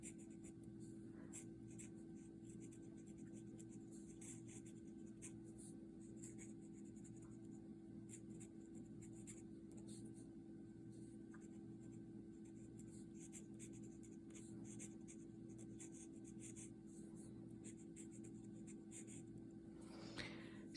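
Sailor Fude de Mannen 55 green fountain pen drawing on paper, a faint, steady scratchy nib sound running continuously over a low background hum, with a brief louder scrape near the end.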